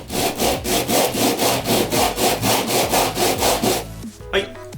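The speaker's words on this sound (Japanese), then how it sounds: "ヤスリかけてね面取りまで行ったんですけど" Hand-filing a wooden homemade marking gauge, a loud close rhythmic rasp of about a dozen even back-and-forth strokes, ending abruptly with a few light knocks.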